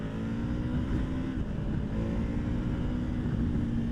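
KTM 1290 Super Adventure S motorcycle engine droning steadily while riding out of a bend, a loud continuous rumble with slight pitch variation and wind noise.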